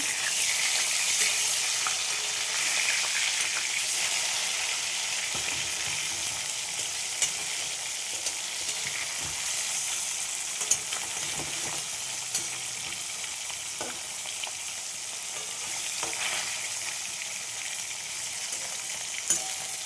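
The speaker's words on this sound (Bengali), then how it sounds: "মাছগুলো সব ভেজে নেব। দেখো মাছগুলো উল্টে দেবো।" Pieces of catla fish frying in oil, giving a loud, steady, close sizzle that runs unbroken throughout, with a few faint clicks from the pan.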